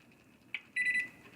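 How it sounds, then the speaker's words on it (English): Kitchen timer being set while making rice crispy treats: a short electronic blip, then a brief run of rapid high beeps, close and clear in a quiet room. "But I'm going to go ahead and set a timer."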